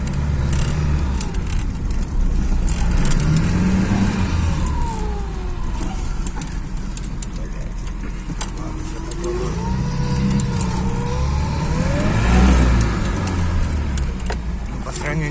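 Car with a K88 carburetor on a 402 engine accelerating in second gear, engine revving up and easing off in waves with rising and falling pitch, close by, with someone talking over it.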